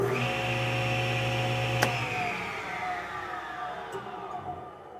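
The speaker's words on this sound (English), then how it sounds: "So if I turn it on, right now," A SawStop table saw motor runs with a steady, loud hum and whine whose pitch slowly drops as it winds down, with a sharp click partway through and no talk.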